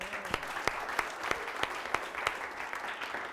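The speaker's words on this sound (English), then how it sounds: "obviously you've got a big fan entourage here from the applause, Thackston Lundy" Applause from a film festival audience, a small group clapping in a steady rhythm with distinct, regular claps, fairly faint and distant.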